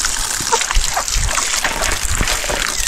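Water pours steadily from a tank into a container of drinking water, giving a continuous splashing, trickling rush that stays close and fairly loud for the whole stretch, with no talking.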